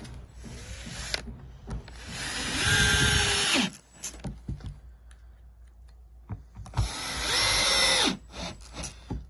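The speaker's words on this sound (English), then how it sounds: "We work with these drills every day making our racks" A handheld power drill driving fasteners while a two-tier storage rack for kayaks, SUPs and canoes is assembled, two loud sustained whirring bursts separated by quieter clicks and handling noises, close up with no talk.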